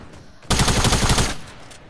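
Burst of rapid automatic gunfire in a video game played among friends, a loud dense volley of about a second starting abruptly, then a short fading tail.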